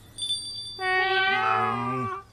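A single long, rising-and-falling cat meow, fairly close and clear, with a thin steady high tone in the background.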